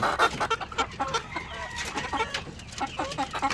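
White leghorn roosters and gamefowl crosses cluck in a steady, close run of short, overlapping calls from several birds, with no voices.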